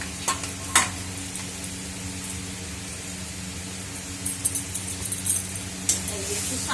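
Water is added to poppy seed paste frying in a pan, giving a steady sizzle with occasional clinks and scrapes of stirring.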